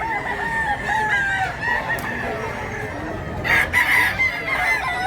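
A rooster crows in long drawn-out calls, with hens clucking around it and a second loud crow near the end, close and clear.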